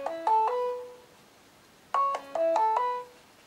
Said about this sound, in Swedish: Här är min ringsignal.